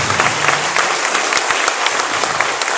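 A community gathering honouring two doctors during Diwali celebrations breaks into a loud, dense round of applause from the audience, a continuous roar of many hands clapping with no one speaking over it.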